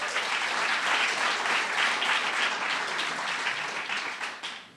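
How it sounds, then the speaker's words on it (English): Audience applause for event organizers at a worldwide Somali students gathering: a dense, loud, sustained wash of many hands clapping that carries on steadily, then tapers off toward the end. "I think they deserve a round of applause"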